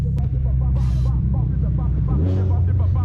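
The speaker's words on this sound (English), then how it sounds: "This car is just freaking loud." A loud, deep Subaru STI engine with a big turbo rumbles steadily up close beside a wall, with a shift in pitch near the end and some talking over it.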